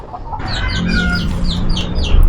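Chickens cluck in a busy run of repeated, close calls, a chorus of farmyard fowl in a rural village setting with steady background noise.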